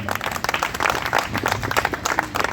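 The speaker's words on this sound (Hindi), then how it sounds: "इन दोनों के लिए ताली हो जाए।" Audience applause at a Chhattisgarhi film event, with dense hand clapping alongside crowd noise and some voices at moderate level through the short stretch.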